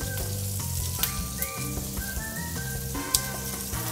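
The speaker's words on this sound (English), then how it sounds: "you're gonna give these things a very good sear" Tuscan beef rolls sear in a hot pan with a strong, steady sizzle, broken by a few crisp spits and pops, close and uninterrupted by any voice.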